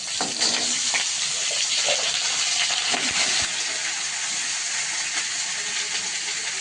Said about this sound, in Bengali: তেল গরম হওয়ার পরে কিন্তু লবণ হলুদ মাখানো মাছটা ভাজতে বসিয়ে দিয়েছি